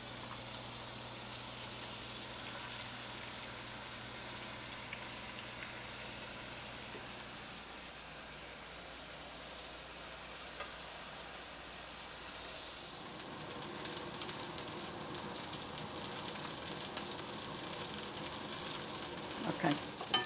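Chicken, zucchini and corn burgers fry in a pan on medium heat with a continuous soft sizzle, which grows louder and brighter partway through.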